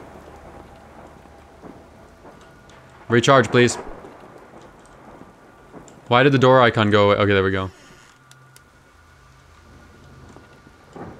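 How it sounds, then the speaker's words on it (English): Rain and rolling thunder in the horror video game Kraven Manor, a steady wash of rainfall running underneath while a person speaks in two short bursts. "Thunder!"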